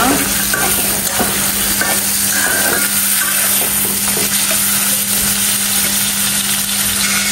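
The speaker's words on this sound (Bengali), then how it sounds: "চিংড়ি মাছগুলো এখন একটু ভেজে নিচ্ছি" Shrimp frying in a hot pan sizzle loudly and continuously, with stirring scrapes running through the steady crackle.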